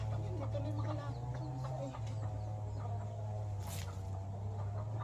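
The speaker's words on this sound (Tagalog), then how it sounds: "Nakakainis tong mga manok na to." Chickens clucking in a backyard, including a mother hen, with soft repeated clucks over a steady low hum, fairly faint and continuous.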